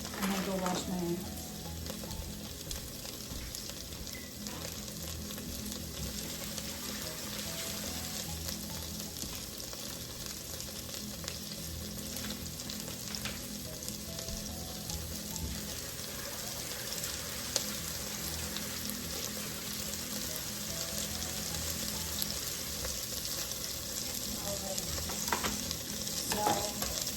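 Shredded cabbage and onions fry in a pot with a steady, close sizzle that runs throughout, broken by occasional stirring scrapes and light clatter.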